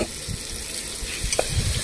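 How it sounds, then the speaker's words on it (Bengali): Spice paste fries in a pan with potatoes and pointed gourd for a Bengali egg curry: a close, steady sizzle broken by several scraping stirs of a spatula. "তাই আমি মশলাটা অ্যাড করে দিলাম, দিয়ে একটু ভালো করে মশলাটা ভেজে নেব।"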